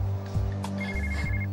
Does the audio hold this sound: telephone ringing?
yes